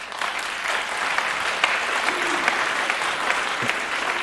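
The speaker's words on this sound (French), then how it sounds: "je ne sais pas ce que veulent dire ces applaudissements" Lecture audience applauding, a dense, steady clatter of many hands clapping at once, loud and sustained throughout with no break.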